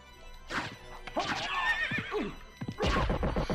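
Horse in Castlevania: Symphony of the Night lets out a loud, rising whinny with bright harmonic squeals, then a second snorting neigh near the end, accompanied by game effects.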